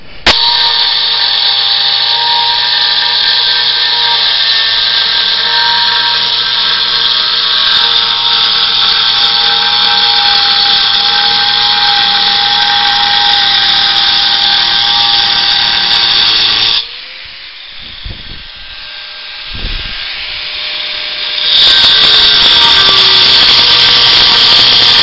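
Granite is cut outdoors with a power tool at a slight angle, producing a loud, sustained high-pitched grinding whine that stops partway through, leaving a quieter stretch before the cutting starts again.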